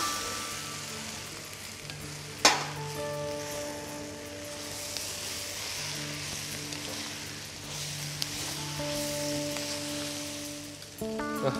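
Tomato paste and oxtail sizzle softly and steadily in a cooking pan, with a sharp clink near the start and faint tonal hums from the kitchen in the background.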